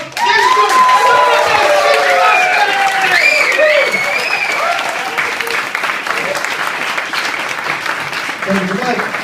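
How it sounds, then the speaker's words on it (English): Audience applause at a comedy show, a dense, loud burst of clapping with some cheering that fills the whole stretch and eases slightly toward the end. "And a big applause."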